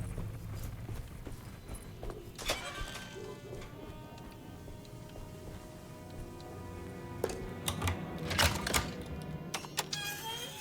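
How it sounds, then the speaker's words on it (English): Horse hooves clip-clopping in the survival horror game Alone in the Dark, a scattered run of clicks that thickens into a louder cluster near the end over a droning, ticking game ambience. "Was that a horse?"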